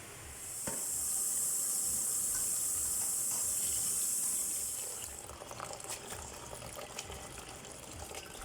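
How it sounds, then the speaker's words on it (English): Soaked cabbage rinsed under a running tap, a steady loud hiss of flowing water for several seconds, then softer splashing and handling sounds as the flow stops, with no talking. "then she's going to give it a rinse"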